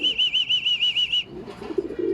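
A racing pigeon arriving home from a 157 km race out of Lopez, Quezon flaps its wings close by in a quick run of about eight even beats, then a brief softer rustle as it settles.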